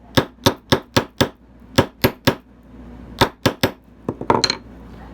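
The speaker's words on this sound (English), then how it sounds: "We're going to hammer and pull, hammer and pull," Wire for a triangle stud earring is struck with a small jewelry hammer, giving a series of sharp, close metallic taps in uneven groups of quick blows with short pauses, ending in a rapid cluster, with no talking.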